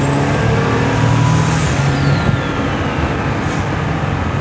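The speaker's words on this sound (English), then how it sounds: "And then the blow-off you get." Turbo blow-off valve venting on a custom-built 1600 hp twin-turbo Buick Grand National: loud rushing whoosh over engine noise, with a faint falling whistle from the turbo.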